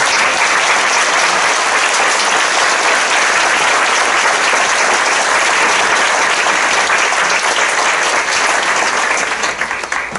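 Steady, dense audience applause at a public panel discussion marking the fiftieth anniversary of the film Los caifanes, loud and continuous for about ten seconds, then starting to fade at the end.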